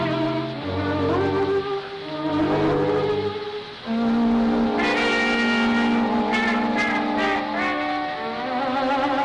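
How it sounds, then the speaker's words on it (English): A car engine idles, then revs and pulls away in an old black-and-white feature film, heard loud and close, rising in pitch as it accelerates, with a swelling orchestral score playing over it. "The car's over here."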